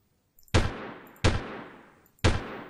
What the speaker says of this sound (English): Somebody's still shooting at me.